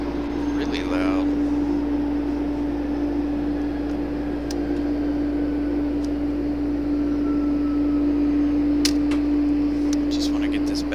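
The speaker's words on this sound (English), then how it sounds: "That is the MD-11. You're hearing that one's really loud." An MD-11 airliner at night near Raleigh-Durham International Airport gives a loud, steady engine drone with a strong constant hum, heard continuously throughout, with a brief voice near the start.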